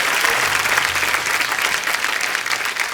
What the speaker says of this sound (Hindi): एक बार जोरदार तालियां हो जाए हमारे तमाम कलाकारों के लिए।